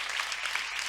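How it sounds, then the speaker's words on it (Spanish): Audience applause at a women columnists' gathering, a brief, even burst of many hands clapping, fairly soft and steady with no pauses. "Gracias por los aplausos."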